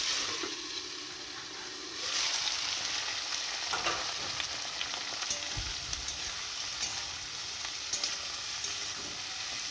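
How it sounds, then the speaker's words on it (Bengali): Chopped vegetables hit hot oil tempered with bay leaf, black cumin and cumin, the quiet sizzle jumping into a loud, dense crackle and then holding steady with occasional stirring clinks, no one speaking. "তেলটা গরম হওয়ার পর এরপরে আবার এর মধ্যে সবজিগুলো দিয়ে দেবো।"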